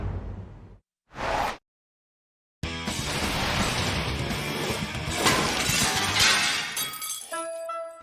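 A car smashes through a restaurant's front window: a brief burst, a pause of silence, then a loud, sustained crash of shattering glass and scattering shards that fades with a few clinks at the end.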